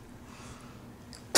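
A single sharp sneeze bursts out near the end, loud and close, after a stretch of quiet room background.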